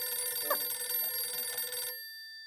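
A telephone rings with a friend's call, a steady electronic ring lasting about two seconds at moderate level, then cutting off abruptly into near silence.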